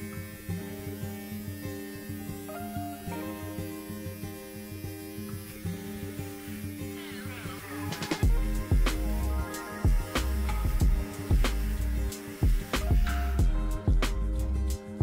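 A Philips Norelco OneBlade electric shaver buzzes through a thick beard, a steady humming drone that turns rougher and louder partway through, with scratchy bursts as it is pushed across the stubble close up.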